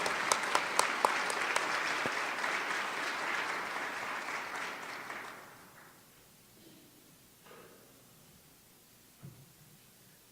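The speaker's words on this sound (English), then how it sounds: "A round of applause to everyone for all your great work." Audience applause fills a conference hall for about five seconds, steady and dense, then fades out, leaving quiet room noise with a few small thuds.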